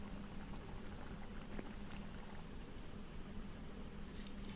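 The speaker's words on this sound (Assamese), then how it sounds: "আৰু অলপ সময় উতলিবলৈ দিছোঁ।" A pan of fish curry with elephant apple boiling softly, a low, steady bubbling with faint pops, quiet and continuous.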